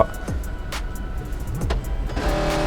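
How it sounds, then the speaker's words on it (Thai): Electric seat motor adjusting in a Koenigsegg Gemera: a soft, steady whir inside the car, with a few brief rising and falling motor tones and light clicks, and no voices. "แล้วก็เบาะเนี่ย สามารถปรับได้จากจอตรงกลางครับ"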